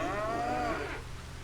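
Cattle on a homestead low and moo in a long, drawn-out call that fades into the steady hum of the farm, heard fairly close with no talk over it.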